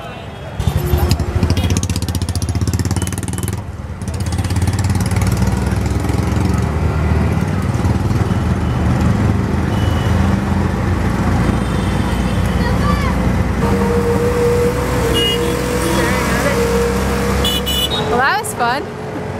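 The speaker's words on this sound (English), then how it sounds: "It's time for our first tuk-tuk ride." Small three-wheeled tuk-tuk engine droning steadily through dense Old Delhi traffic, loud and close for the whole ride, with surrounding vehicles, a few horn toots and some voices mixed into the busy street din.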